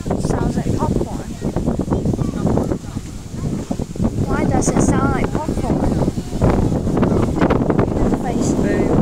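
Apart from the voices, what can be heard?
wind blowing on the microphone during fireworks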